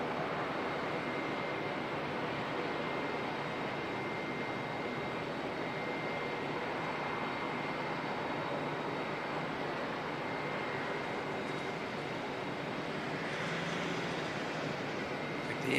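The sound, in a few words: Air Chathams ATR aircraft heading out at Auckland Airport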